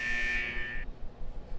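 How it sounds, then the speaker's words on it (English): Buzzer signaling the end of a test in the Persona 4 Arena video game, a loud steady electronic tone held for nearly a second before cutting off to quiet. "The buzzer signaling the test ends finally rings."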